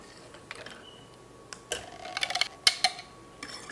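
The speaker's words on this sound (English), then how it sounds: "let me start to beat these eggs" Eggs being beaten with a utensil in a bowl for the sauce of Greek stuffed eggplants, giving quiet, irregular close-up clicks and taps that cluster into a quick burst partway through, with no talk.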